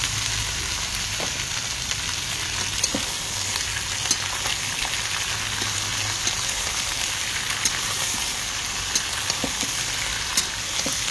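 Vegetables frying in hot oil in a home kitchen, a continuous close sizzle and crackle with scattered sharp pops and light stirring clicks, no voices.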